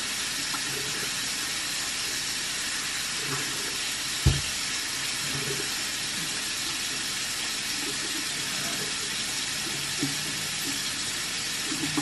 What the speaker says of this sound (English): So I'm just going to let this water run.